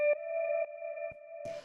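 A short recorded guitar layer in a deep house production plays a few clean, sustained plucked notes with a ringing tonal quality, each note starting sharply and then holding steady.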